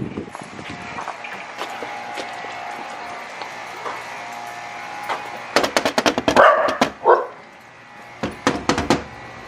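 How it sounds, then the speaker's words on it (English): Dogs barking in a rapid cluster of sharp barks midway, fairly close, with running footsteps and shouting voices around them. "Oh shoot, they got dogs."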